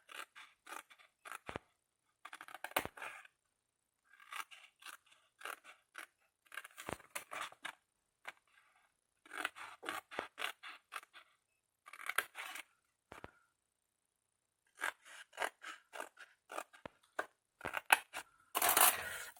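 Scissors snip through paper in quick clusters of cuts separated by short pauses, close and fairly quiet, while an Advent calendar shaped like Santa's car is made, with no voices.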